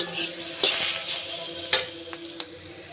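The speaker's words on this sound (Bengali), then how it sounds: "সব মশলা দিয়ে দিয়েছি, এখন আমি নেড়ে নেব।" A spoon stirs spices sizzling in hot oil in a pan, steady frying hiss broken by a few sharp scraping clinks, close and clear with no talking.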